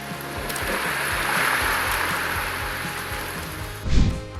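Calming beach-wave soundscape from a mental health app, a soft, continuous wash of surf that swells gently, with a brief louder whoosh near the end.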